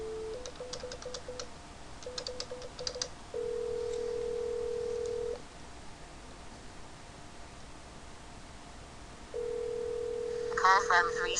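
A desk phone on a Cisco Call Manager system during a Google Voice call: short dial-tone bursts and tick-like key tones, then steady ringback tones in long even blocks, with a faint voice near the end.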